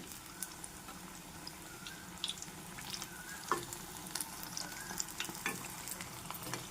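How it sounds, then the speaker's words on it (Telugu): Capsicum bajji fry in hot oil as a ladle turns them, giving a quiet, even bubbling sizzle broken by scattered small clicks and taps from the ladle. "మనం ఆయిల్లో వేసిన తర్వాత చక్కగా మనం అటు ఇటు ఒక గరిటె తీసుకొని అటు ఇటు తిప్పుకోవాలి."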